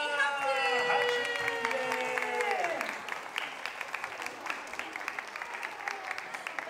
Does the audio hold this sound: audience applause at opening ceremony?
yes